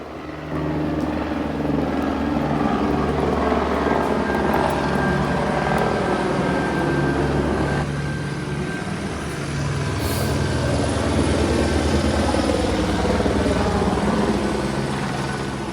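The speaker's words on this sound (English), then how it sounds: "There goes the helicopter." A police helicopter passes overhead with a loud, continuous thudding rotor drone over a hazy outdoor city backdrop, the sound staying strong throughout and easing briefly midway before building again, with no voices.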